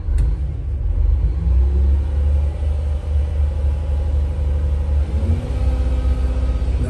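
A 1997 Gillig Phantom bus engine idles as a deep, steady rumble with a low drone close by, and a slight shift in tone partway through.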